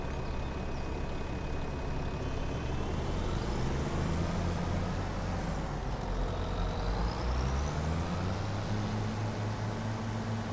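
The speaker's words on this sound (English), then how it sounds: "Lots of traffic today, lots of traffic." Road traffic in Farming Simulator 25: trucks and cars rumble past in a steady loud engine drone, with pitch sweeps as vehicles pass by.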